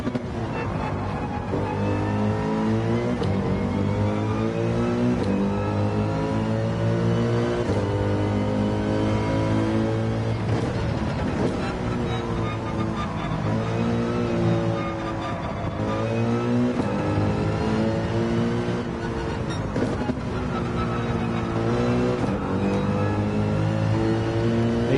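Race car engines in Gran Turismo 7 at the Red Bull Ring: a continuous, loud drone of engines revving up and down through gear changes, with several cars close together and no voices.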